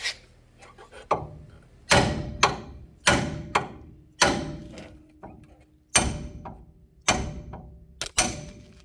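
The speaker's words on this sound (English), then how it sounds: "Got a little crazy with the hammer there." Front end parts of a 1978 C10 pickup take sharp metallic hammer blows, about ten strikes in an uneven rhythm, each ringing briefly before the next. The blows are close and loud and sound alone.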